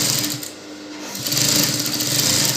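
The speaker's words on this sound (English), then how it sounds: "this is me just top stitching on top" A sewing machine runs steadily, double top stitching a T-shirt hem with a fast, even mechanical whir, close and loud, briefly slowing before picking back up, with no talking.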